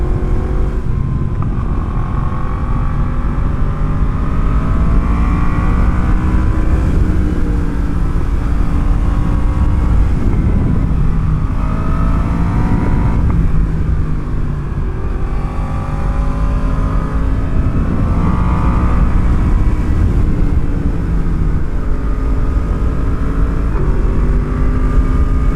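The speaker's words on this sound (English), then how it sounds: "Even in standard mode, you can really tell it's a detuned R1 engine." Yamaha FZ-10 motorcycle with its detuned R1 engine, ridden up a cold mountain road, the engine roaring loud and close as it pulls through repeated rising revs and gear shifts over wind noise, with no talk.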